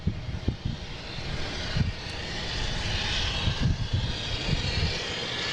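A JetBlue airliner arriving at Boston Logan from New Orleans, a steady distant engine roar that holds level throughout with low rumbling swells and faint background noise.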